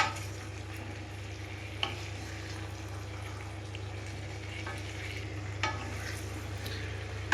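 Cauliflower florets coated in spices are turned in a frying pan for aloo fulkopi rasa, a soft continuous sizzle with scraping spatula strokes and a few sharper clinks, quiet and close, with no talking.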